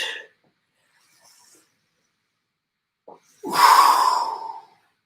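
A single forceful exhale during a glute exercise, a breathy rush lasting about a second after a short quiet pause, close and clear with no talking.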